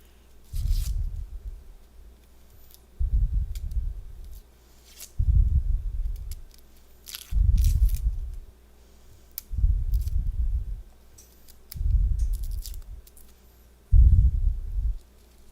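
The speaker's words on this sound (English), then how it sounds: "peels an onion" Someone peels an onion by hand, seven separate bursts of close, crackly tearing and papery scraping of dry skin, each lasting about a second and evenly spaced between quiet pauses.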